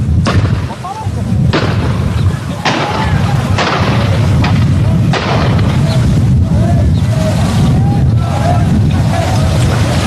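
Repeated gunshots and booming reports ring out during a 2017 prison riot at Alcaçuz penitentiary in Rio Grande do Norte, loud and continuous, with a voice talking over the gunfire.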